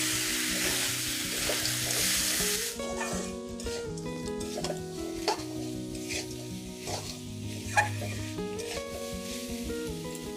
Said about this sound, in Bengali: এবার কাঁকড়াগুলোকে আমি একটু কষিয়ে নেব।